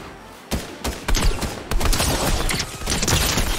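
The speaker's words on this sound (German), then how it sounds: "Nee, der schießt auf mich." An enemy in Fortnite fires at the player in rapid bursts of gunshots, loud and sharp, coming thick and near-continuous over a few seconds with short gaps between them.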